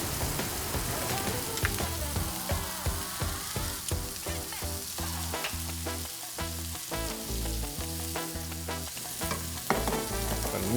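Bananas Foster frying in butter, banana liqueur and dark rum sizzles loudly and continuously while being stirred, with crackling pops and spoon scrapes and no voices.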